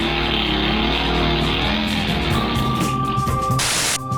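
A mouth-made imitation of a lawn mower, a continuous rough buzzing drone held close for several seconds and ending abruptly.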